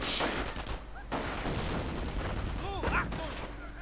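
In a World War II strategy video game match, mortar and counter-mortar fire thud and crack across the battlefield in scattered bursts, with a commentator talking over the explosions throughout.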